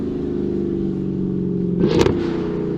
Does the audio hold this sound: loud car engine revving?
yes